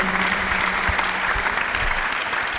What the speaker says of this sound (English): Please, a big round of applause to them.